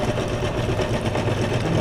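A sewing machine stitching around the edges of fabric scrap pages, a close, loud, steady mechanical whir with a fast even rhythm running throughout.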